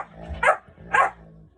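A big house dog barking indoors with puppies about: two sharp barks about half a second apart stand out against a quiet background.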